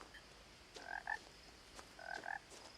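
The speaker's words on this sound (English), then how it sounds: "I hear a toad." Two short croaks from a toad in the swampy setting of the video game What Remains of Edith Finch, each a quick pair of raspy calls, the second after about a second's pause, clear against a quiet ambient bed.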